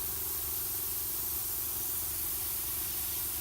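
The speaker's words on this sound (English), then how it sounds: "the airbrush is running at a nice consistency" An airbrush sprays paint onto a Blood Angel Librarian miniature with a constant, even hiss at close range, holding level for the whole stretch with no voices over it.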